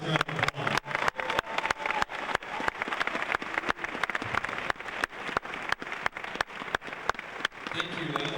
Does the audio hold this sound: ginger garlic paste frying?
no